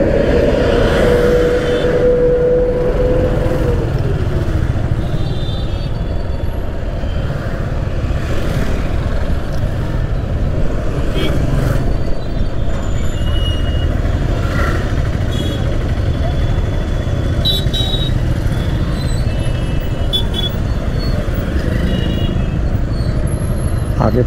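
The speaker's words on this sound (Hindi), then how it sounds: "जैसे ही फ्लाईओवर से नीचे उतरेंगे आपको यहाँ पर ट्रैफिक जाम मिलेगा।" Heavy road traffic crawls in a jam below a flyover near the Pandeypur market in Varanasi: a continuous loud rumble of trucks, cars and buses, with a short air-brake hiss early on.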